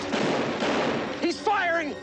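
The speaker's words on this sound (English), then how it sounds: "He's firing!" A loud, noisy burst of gunfire from the TV series Hard Time on Planet Earth fills the first second, then a voice shouts over the fading echo.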